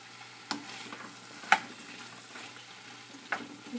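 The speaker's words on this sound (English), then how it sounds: "now I am going to add the chopped bitter gourd" Chopped bitter gourd sizzles in a hot pan, a soft continuous frying hiss broken by three sharper stir clatters spaced about a second or two apart, close by and alone.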